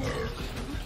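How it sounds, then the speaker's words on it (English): A single loud, rasping fart noise rumbles briefly in a cartoon animation featuring Pou, dense and buzzy from start to finish. "Is that fart noises?"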